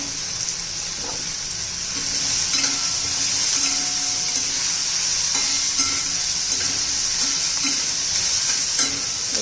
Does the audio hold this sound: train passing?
no